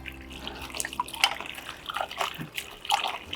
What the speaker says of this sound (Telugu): ఈసారికి మాత్రం కడిగి కోస్తా